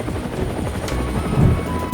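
A rescue helicopter flies over flooded land after heavy rain, its rotor chop loud, close and steady throughout, with no voices.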